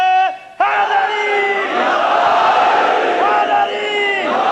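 A large crowd at a Shia majlis roars a religious slogan in unison, a loud sustained mass of voices with rising and falling shouts that briefly drops before surging back and holding full and close.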